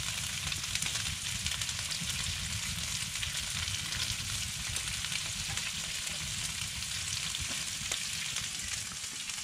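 Steady, dense sizzling of food frying in a pan at a winter hunting camp in New Zealand, a continuous crackling hiss running alone without pause.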